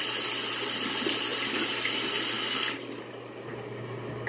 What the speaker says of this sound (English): I need to wash my hands.